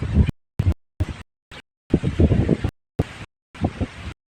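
Wind at sea buffets the microphone in rough, chopped bursts, rumbling loudly and then cutting out with brief silences in between.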